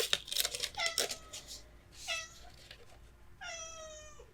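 A pet cat meows several times in a quiet indoor craft space, the cries short and fairly close, with a longer drawn-out meow near the end.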